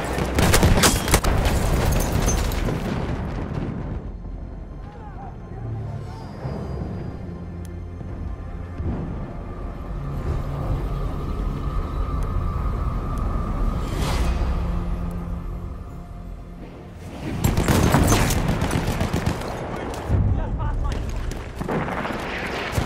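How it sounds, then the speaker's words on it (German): An enemy machine gun in Battlefield 1 rattles in loud bursts amid booming explosions and battlefield din, with a heavy eruption of fire near the start and again toward the end, while voices shout over the combat. "Feindliches MG!"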